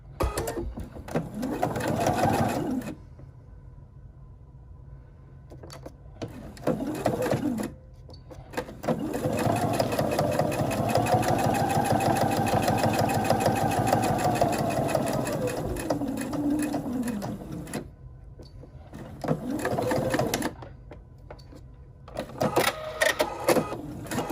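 Sewing machine stitching quarter-inch seams on a fabric Christmas ornament, running in long steady bursts of several seconds with short pauses between, close and loud, with no talk over it.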